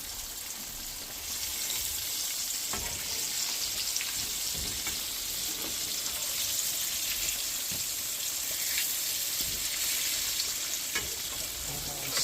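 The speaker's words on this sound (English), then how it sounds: "flipping our patties over" Fish patties fry in a pan with a constant close sizzle, crackling and popping steadily throughout, with no talking.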